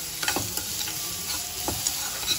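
Burger filling frying in a home pan, a steady close sizzle with a few soft stirring scrapes and clinks, no voices.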